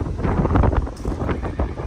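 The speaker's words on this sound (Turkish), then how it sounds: "Rüzgar var" Gusty wind buffets the microphone at a horse farm with loud, low rumbling bursts that rise and fall throughout.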